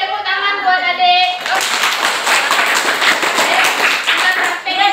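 A group claps together for a child during a handwashing lesson, producing a sustained burst of quick, close hand claps that follows a short spoken phrase and carries some voices over it.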